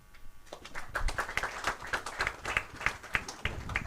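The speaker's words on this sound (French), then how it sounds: "des applaudissements bien mérités pour cette brillante présentation" A press-conference audience applauds after a presentation, a moderate patter of many hands clapping at some distance, fairly faint and continuous.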